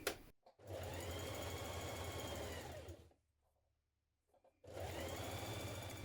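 A sewing machine stitches the side seams of a McCall's 7357 blouse in two steady runs, a loud continuous whirr that stops for over a second of near silence before starting again.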